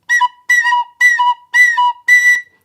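Five separate high whistled notes from a tin whistle on B, each blown with too much breath, giving a bright, strained, overblown tone in short evenly spaced bursts with no talking.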